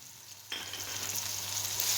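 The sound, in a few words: ginger garlic green chili paste frying with onion and tomato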